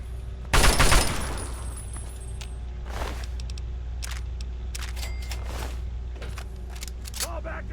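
Gunfire in the video game Fallout 3, a burst of several rapid shots up front followed by scattered lighter impacts and clicks through a steady background hum, fairly quiet overall.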